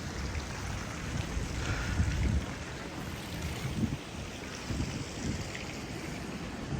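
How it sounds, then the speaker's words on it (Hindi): Steady broadband rushing of river water at the confluence of two rivers in Kuala Lumpur, heard outdoors as a continuous, moderately loud wash with slight surges, no speech. "ये एक दरिया आ रहा है तो नहर की तरह का दरिया"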